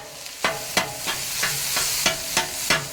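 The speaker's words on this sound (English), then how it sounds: "Chop that up a little more." A metal spatula chops chorizo and potatoes on a Weber Slate flat-top griddle, eight or so crisp taps at an even pace, close and distinct over a continuous sizzle.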